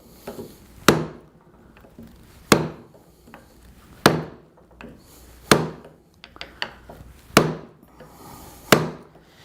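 A mallet strikes a chisel cutting a wooden dovetail joint, six sharp woody knocks spaced at a slow, even rhythm, close and loud with quiet gaps between.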